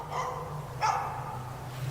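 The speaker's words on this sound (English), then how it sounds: "the only sound that greeted them was the barking of dogs" A dog barks once or twice at a distance in a forest, faint and short over a low steady hum, with no talk.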